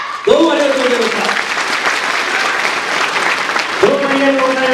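An outdoor audience applauds after a yosakoi dance performance at a festival, sustained dense clapping while an announcer speaks over the top at the start and end.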